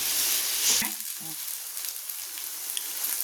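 Brinjal (eggplant) fries in a pan with a close, bright crackling sizzle that rises briefly, then settles into an even hiss, with a short murmur of voice near the start.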